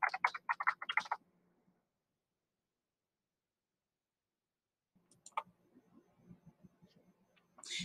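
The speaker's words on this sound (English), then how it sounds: "if you know the book that you want, just go ahead and type it in the search" A computer keyboard is used to type a book title into a library search: a quick, quiet burst of key clicks, then a long silence and a few scattered faint taps.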